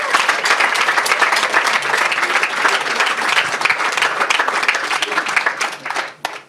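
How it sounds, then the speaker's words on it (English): Loud, sustained audience applause at an event fills the room continuously, then fades out near the end. "Give him a big round of applause."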